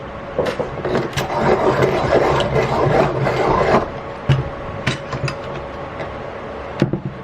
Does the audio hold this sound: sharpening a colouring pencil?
yes